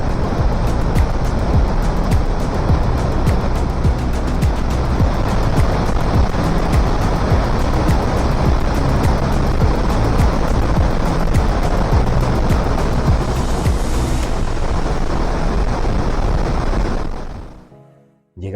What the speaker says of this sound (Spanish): Llegamos a las cascadas de la parte exterior.